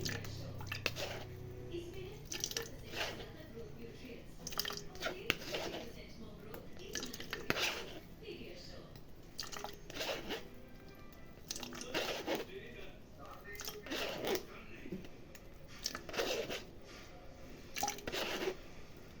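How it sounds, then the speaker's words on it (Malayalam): Rose apple pulp is squeezed and mashed with a spoon in a bowl, making soft wet squishes, drips and light metal clinks in an irregular rhythm, close and fairly quiet, under a woman's ongoing speech. "സത്തെല്ലാം ഇങ്ങനെ സ്പൂൺ കൊണ്ട് പിഴിഞ്ഞെടുക്കണം."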